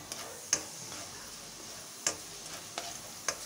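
A utensil stirs tomato ketchup into chicken macaroni in a pan, giving a soft steady sizzle with a few sharp clicks of spoon against metal and no talk.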